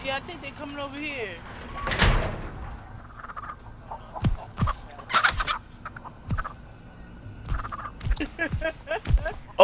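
Chickens clucking and squawking in agitation near a bird's nest in the Texas Chainsaw Massacre video game, heard in short repeated bursts while people talk over them.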